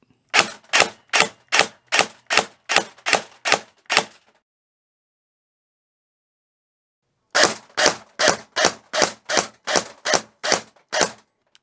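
Two rapid strings of about ten sharp, snappy semi-auto shots from an SR25 airsoft rifle with a helical gearset, evenly spaced, separated by several seconds of silence.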